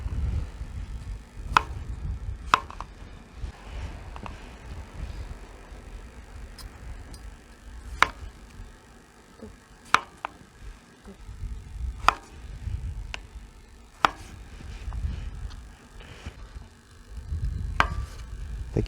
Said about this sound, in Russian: Картофель нарезаем по-деревенски на крупные дольки.